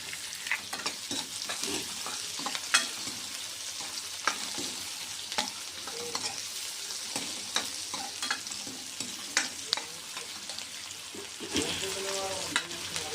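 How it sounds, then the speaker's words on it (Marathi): Onion frying in a pan until reddish, a continuous sizzle broken by frequent sharp stirring scrapes and clicks of a spoon, close and moderately loud. "कांदा थोडासा लाल होऊ द्यायचा"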